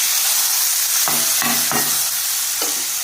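Tomato, onion, green chilli and garlic fry in hot oil with a dense, loud, steady hiss, broken by a few soft knocks from a spoon stirring the pan.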